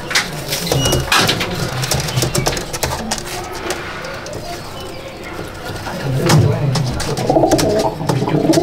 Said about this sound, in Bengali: এই হচ্ছে আমার বাড়ির ধারে জিরিয়া পেয়ার, অনেক পুরনো পায়রা এগুলো